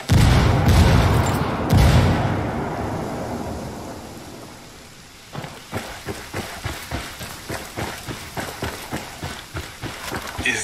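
Video game combat: a heavy grenade blast rumbles and fades, then a rapid, regular burst of gunfire cracks follows at an even rhythm, loud and close, with no voices.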